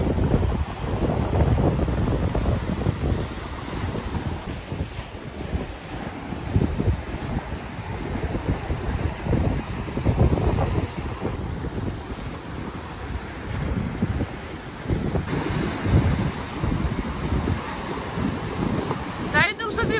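Wind-driven waves crash and surge along the Irish coast in rain, loud and continuous with heavy wind buffeting the microphone and repeated swells rolling in close by.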